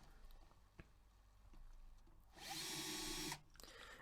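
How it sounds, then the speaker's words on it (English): Quiet workbench ambience gives way to a power drill boring out a rivet on a Matchbox Ford pickup toy truck, a short, near whirring burst lasting about a second before cutting off. "So I take my handy dandy drill and drill out the back rivet."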